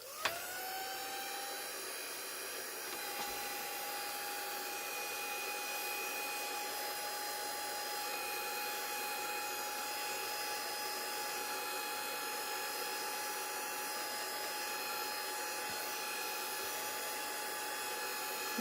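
An electric heat dryer blows steadily on wet ink in a crafting setup, a constant close whirring hiss with a faint high whine that runs unbroken for nearly twenty seconds with no talking.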